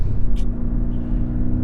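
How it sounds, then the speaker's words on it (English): A Porsche 718 Cayman's exhaust drones at a low, steady pitch from inside the cabin while driving near Malibu. The sound is a constant rumble with a brief hiss partway through and no talking. "the sewing machine type exhaust note"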